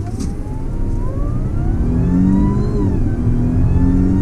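A supercharged Audi A6 Quattro 3.0T accelerates at full throttle from a standstill. The engine note rises in a strong, climbing whine over loud road and cabin roar, heard up close, with no talking.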